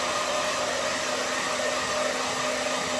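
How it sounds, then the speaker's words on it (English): A hair dryer blows continuously on a painting, a steady, close, loud whooshing hum with a faint motor whine and no talk. "I've got a hairdryer. I'm going to give it a quick blast."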